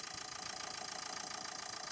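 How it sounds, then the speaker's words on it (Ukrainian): A 2012 Nissan Qashqai 1.5 dCi K9K diesel engine idling steadily with an even, low mechanical hum and slight rhythmic knocking, no voices. "Послухайте, як працює двигун."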